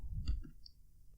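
A single soft mouse click on an on-screen microphone button, brief and close against a quiet background.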